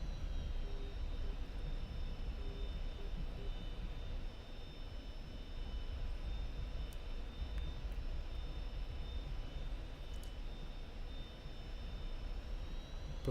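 A military jet taxiing at Bandar Abbas International Airport, Persian Gulf, in a flight simulation, gives a steady, moderately loud engine whine with a thin high tone and rumbling low end throughout, with no talking.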